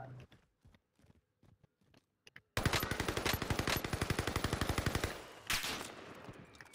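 Video game gunfire in a battle royale match: scattered single shots, then a sustained rapid automatic burst of evenly spaced loud cracks lasting a few seconds, followed by another heavy blast.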